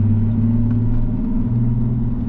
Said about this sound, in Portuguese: O carro tá de terceira marcha.